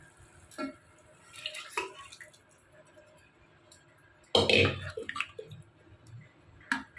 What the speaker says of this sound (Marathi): आता मी शिजवलेली डाळ यात टाकून देणार